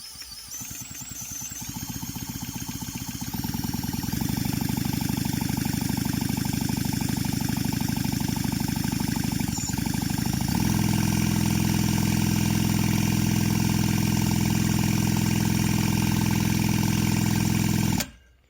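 A Chinese petrol chainsaw engine runs continuously during a cold break-in, a steady droning mechanical hum that rises in level partway through and then cuts off abruptly at the end.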